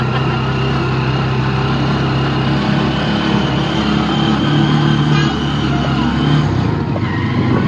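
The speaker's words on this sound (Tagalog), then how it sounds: "We're riding on a tricycle." Motorized tricycle rolling through San Jose del Monte, Bulacan, in the Philippines, its small engine droning steadily up close with a rumbling hum and road noise, pitch wavering slightly as it rides.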